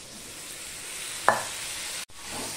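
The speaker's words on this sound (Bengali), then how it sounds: "টমেটোটা দিয়ে আমি কিছুটা নেড়ে দিচ্ছি" Tomato and boiled potatoes being stirred in a pan for curry, a single brief spatula scrape over a soft, steady sizzle, close and fairly quiet.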